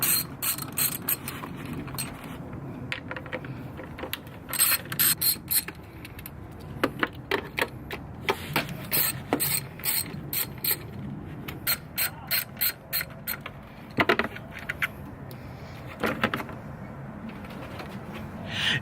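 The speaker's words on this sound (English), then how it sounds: "Be 10mm bolts, one right here, one right here, one over here, and two in the back over there." A hand ratchet works loose the 10mm valve cover bolts on a Lexus IS300, with repeated bursts of rapid pawl clicking separated by short pauses and faint metallic handling, close and clear with no talking.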